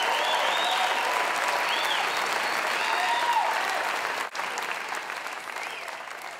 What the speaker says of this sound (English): I think we should have a round of applause for Musicoz